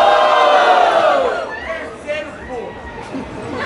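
A battle rap audience at a regional freestyle battle roars and chatters loudly, a dense burst of crowd voices that swells at first, then thins into scattered shouts and murmurs.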